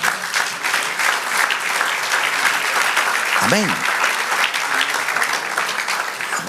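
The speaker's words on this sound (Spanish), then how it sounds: "Denle aplauso al Señor." A church congregation claps loudly and steadily after a sermon, with a voice calling out briefly in the middle of the sustained applause.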